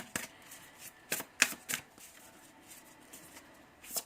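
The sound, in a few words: tarot cards being shuffled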